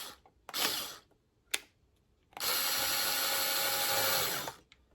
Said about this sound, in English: If I can get this screwdriver, or screw gun in.